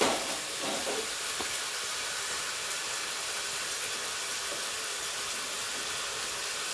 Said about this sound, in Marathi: मस्त असा कांदा जरा तळल्यानंतर छान लागते तळून नंतर त्याच्यामध्ये बटाटे घालायचे